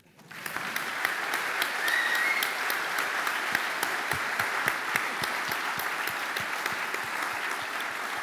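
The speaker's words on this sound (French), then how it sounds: "Je pense que vous pouvez l'applaudir." A conference audience at a developer event breaks into sustained applause after a talk, many hands clapping steadily from a quiet start into a full, even roar.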